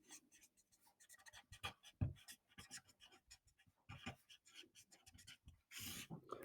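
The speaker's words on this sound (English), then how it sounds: "let me just write down." A lecturer writes on a board during a lecture, producing a series of close, quiet scratches and taps in an irregular rhythm with brief pauses, alone without talk.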